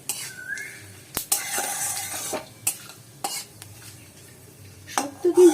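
Shukto with dry red chilli and fennel seeds is stirred in a pan: sharp metal clinks and scrapes come in bursts over a light sizzle, close up, with no talking.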